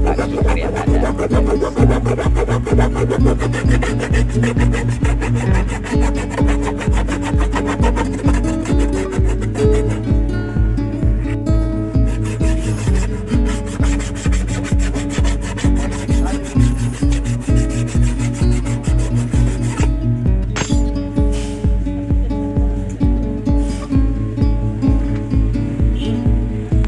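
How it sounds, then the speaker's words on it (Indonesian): A coarse hand file rasps across a patched, cracked car brake light in fast, steady back-and-forth strokes, loud and close, continuing without pause. "Di sini kita bisa menggunakan kikir yang agak kasar biar tidak terlalu capek ya"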